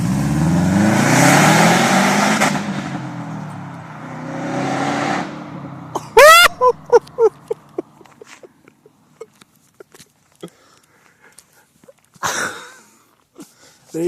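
A 2008 Subaru WRX with no mufflers, a downpipe and stock cat-back revs in short bursts, heard up close, after a stretch of broadband noise and then a sharp rising rev. Brief blips follow, and a voice speaks faintly.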